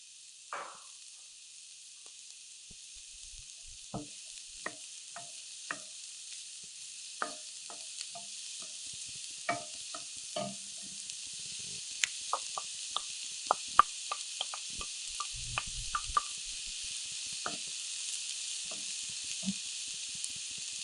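Onion, garlic and red pepper frying over medium heat in a shakshuka skillet: a soft, constant hiss of sizzling oil with scattered sharp crackles and pops that grow more frequent, fairly quiet and without voices.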